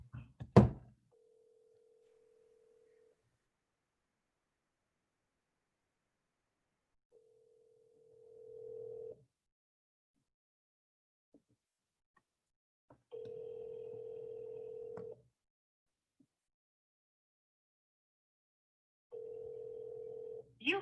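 An outgoing telephone call rings through several times before reaching voicemail, each tone burst about two seconds long with long silent gaps between, faint and alone, after a short click at the start.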